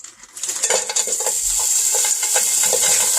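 Super greens wilting and cooking down in a hot pan for meal prep, with steady loud sizzling and a few scattered stirring clinks throughout, no talking.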